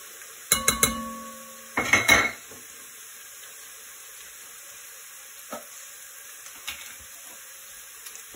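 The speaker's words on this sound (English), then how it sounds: "Then we're going to stir in about 1/3 cup of flour." A spoon stirs flour into a pot of beef stew with gnocchi, giving a couple of sharp metallic clatters early on, then a few faint, scattered clinks over near silence.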